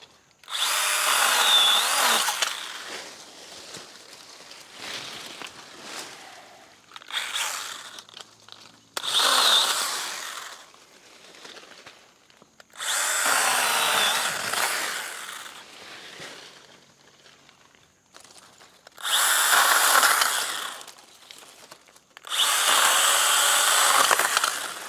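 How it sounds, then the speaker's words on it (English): A Stihl GTA 26 battery pruner chainsaw cuts through bush limbs in several separate loud bursts of whirring and chewing through wood, with short quiet gaps between cuts and nobody talking. "So let's cut a few more limbs off here."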